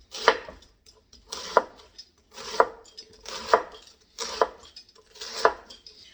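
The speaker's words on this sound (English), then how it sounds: "I'm just going to slice" A knife slices through cabbage on a board in six even, crisp strokes, each a close crunchy cut ending in a light knock, about one per second with quiet gaps between.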